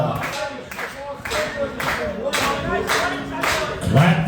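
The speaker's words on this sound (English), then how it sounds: "Let's get your hands clapping." A crowd at a picnic-grounds polka dance claps hands together in a steady beat to live brass band music, with voices mixed in.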